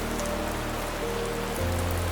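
Steady rain falls on a surface, a dense continuous patter that stays close and even throughout.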